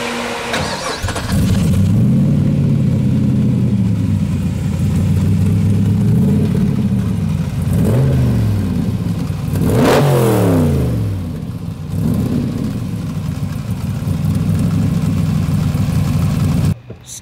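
A V8 Datsun Fairlady fitted with a Z06 engine starts up and revs repeatedly, sharp rising and falling blips over a loud, close idle, then cuts off abruptly at the end.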